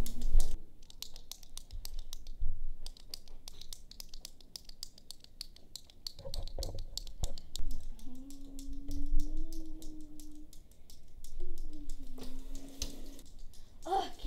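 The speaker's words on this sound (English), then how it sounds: "can't you stop clicking your pen?" A pen is clicked over and over in a fast, sharp run of small taps close by. Voices speak quietly under the clicking for part of the time.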